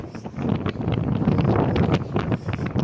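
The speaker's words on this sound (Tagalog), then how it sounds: "Sobrang lakas ng hangin guys." Strong gusting wind buffets the open deck of the Costa Serena cruise ship, a loud, continuous roar that swells and dips for the whole stretch with no clear voices.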